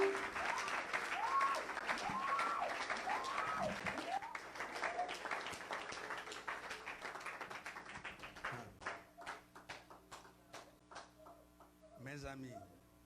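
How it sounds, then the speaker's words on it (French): A church congregation applauds the Lord, broad clapping at first that thins into scattered claps and fades, with a voice speaking over it. "Are you with this type of applause?"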